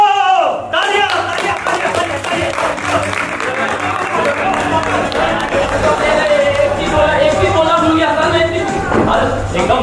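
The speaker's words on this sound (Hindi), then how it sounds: "तालियां।" A theatre audience claps before a serious stage play begins, steady dense applause running throughout, with voices and music-like tones mixed in underneath.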